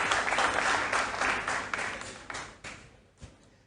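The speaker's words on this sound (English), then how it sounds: "A round of applause, ladies and gentlemen, to the contestants." An audience applauds the contestants at a school quiz championship, a full burst of clapping that thins out and fades over a few seconds, with a last few scattered claps at the end.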